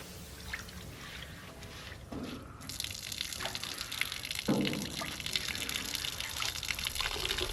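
Fresh water runs and splashes steadily while rinsing soap off a Blackstone griddle outdoors, a continuous close gush with shifting tone as the flow hits the metal surface.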